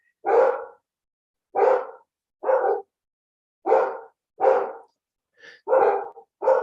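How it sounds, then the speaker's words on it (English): Dogs barking in loud, separate bursts, about eight barks spaced unevenly with short silences between, close by and clear, with no talk over them. "these dogs are getting me."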